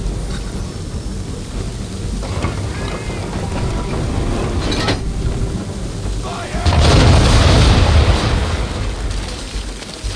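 In Assassin's Creed 3, ship cannons fire in a naval battle, deep booms rolling out over a constant rumble of sea and wind, with a heavier blast near the end and a voice talking.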